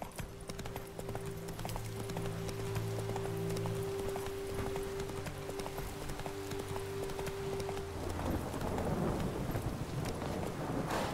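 Steady hoof clip-clop of a horse galloping in The Witcher 3: Wild Hunt, fairly quiet and continuous beneath sustained game music tones and a soft wind-like wash.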